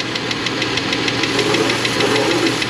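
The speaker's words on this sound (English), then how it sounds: "It might recover and the tick will get quieter, it might not." A running engine 14,000 miles overdue for an oil change, with a rapid, regular ticking clatter over a steady hum, close up and continuous.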